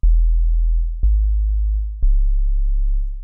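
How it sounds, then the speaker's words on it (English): Sine wave sub bass synth from a wavetable, playing three long, loud, deep sustained notes, each lasting about a second and starting with a sharp click. "use our wavetable again, and we're going to be focusing on the sine wave"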